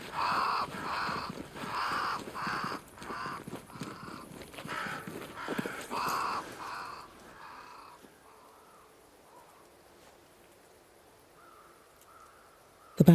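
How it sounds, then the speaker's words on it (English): Crows cawing in the video game Banishers: Ghosts of New Eden, a run of harsh repeated calls in the first seven seconds over rustling ambience, then fading to faint, sparse calls in a quiet scene. "Crows. They flock to that great tree up there."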